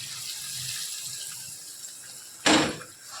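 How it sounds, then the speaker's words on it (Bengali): Hot water is poured from a vessel into a Bengali doi potol curry in a pan, a short loud splashing pour near the end following quieter kitchen background hiss. "এখানে পরিমাণ মতন গরম জল ঢেলে দিয়েছি"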